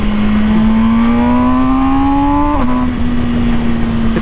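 MV Agusta Brutale 1000RR motorcycle engine, 2020 model, revving in second gear on a ride, a loud steady drone rising slightly in pitch then dipping briefly before holding, close and alone with no talk.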